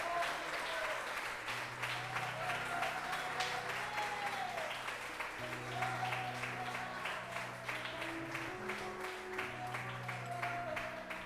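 Church congregation clapping during worship, a sustained crowd of hands under held musical tones from a keyboard, fairly quiet and steady, with a voice faintly present.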